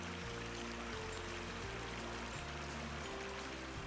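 Small waterfall of clear spring water beside a steep hiking trail toward the Manistee River, a steady rushing pour and splash that stays close and even throughout, with no voices.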